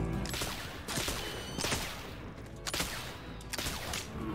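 Gunshots during a hunt in the Nintendo Switch version of Oregon Trail, several sharp cracks spaced about a second apart, loud and close, with no talk over them.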